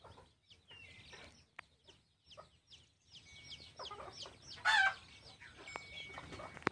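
A hen with her chicks clucks softly among a flurry of high, rapid chick peeps, ending in a sharper burst of calls, all close by with no talk.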